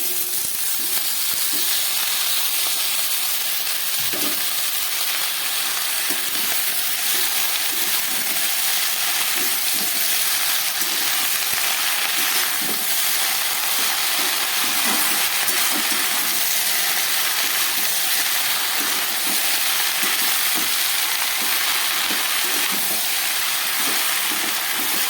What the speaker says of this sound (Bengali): এবার আমি দিয়ে দিচ্ছি এই কেটে রাখা শাকটা